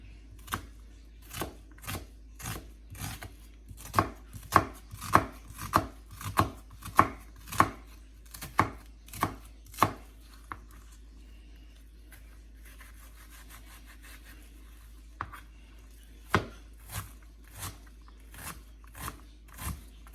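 A knife chops onion rapidly on a board, a quick run of crisp strikes, a pause, then a few more scattered chops.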